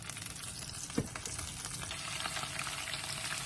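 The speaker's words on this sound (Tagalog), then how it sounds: "May mantika tayo. Mantika. Ilagay ang curry paste." Curry paste fries in hot cooking oil with a steady, dense sizzle that carries on throughout, close and even in level, broken once by a brief stirring clink and with no talk.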